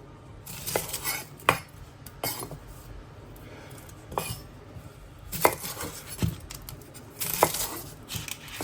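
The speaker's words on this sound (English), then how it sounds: "I'm going to chop up the onions, leave it nice and fine." A knife finely chops onions on a cutting board in irregular bursts of sharp taps, with short pauses between runs and light clinks of utensils.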